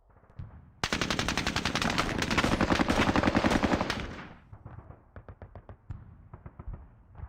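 Tank and weapon fire in the wargame Squad Battles Eagles Strike: a long, loud rattling burst of rapid automatic fire lasting about three seconds, then a scatter of quieter separate shots and short bursts.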